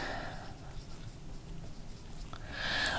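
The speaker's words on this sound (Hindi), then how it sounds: "सबसे पहले यहां पे हमने लिखना है एटॉमिक रेडियस।" Marker or chalk writing on a board during a chemistry lesson on atomic radius, soft scratchy strokes close by and fairly quiet, with some faint voice in the background.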